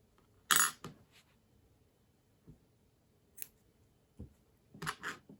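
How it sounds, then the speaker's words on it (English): Scissors snip crochet yarn in a few sharp, close cuts spread across a quiet room, with two quick snips at the start and more near the end, and no talk. "And we can now cut and tie the yarn."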